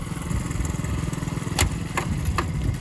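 A restored 50-year-old Honda Dax motorcycle with an automatic centrifugal clutch pulls away, its small engine putting out a steady, close pulsing drone with a few sharp clicks near the end.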